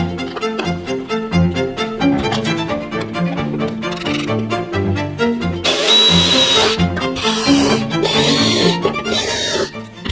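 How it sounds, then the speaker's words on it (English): Power drill boring rivet holes through a honeycomb panel during a Ford RS200 rebuild, loud and close, drilling steadily in repeated bursts with a harsher, brighter whine near the end. "any weight on the drill so you don't spear through and hit the skin at the back."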